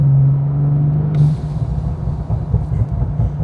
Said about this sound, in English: You guys are gonna hear as well right here the blow-off valves